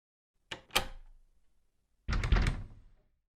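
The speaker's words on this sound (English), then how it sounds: "a woman locks the door and keeps a man outside" A door swings shut with a sharp knock and clatter, then after a pause a heavier thud and rattle as it is pushed closed and locked, both close and isolated in silence.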